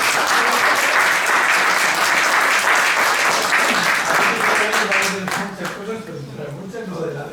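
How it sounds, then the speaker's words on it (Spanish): An audience at a university innovation centre event applauds in a loud, sustained round that thins out toward the end, with voices starting to come through as it fades. "vamos a aplaudirte"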